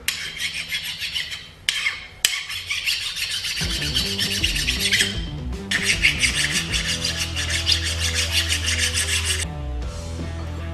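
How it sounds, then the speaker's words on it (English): A hand file rasps across a rusty brake caliper from a Can-Am Outlander XT ATV, in steady close back-and-forth strokes that run loud and continuous with brief pauses between passes. "I'm going to take the file and we'll file this all down and we'll get this nice and smooth before I put it back together."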